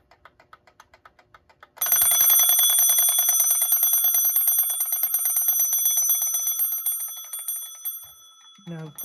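An antique mechanical alarm clock from around 1898-1902 ticks softly, then its bell rings loudly and continuously for several seconds before fading, with a voice briefly heard near the end.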